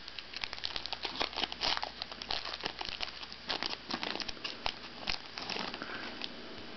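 A foil wrapper on a Pokémon Dragon Frontiers booster pack is opened close up, giving continuous crinkling and crackling with irregular sharp crackles and light tearing, fairly quiet with no talking.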